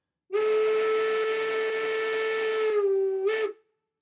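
A long, steady five-tone steam whistle blast from a DB Class 10 steam locomotive, with a rich chord-like tone, sustained for about three seconds, then a brief second toot after a short break.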